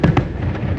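Distant fireworks launched from Epcot and heard at the Swan hotel, a couple of quick muffled booms within a second over faint background.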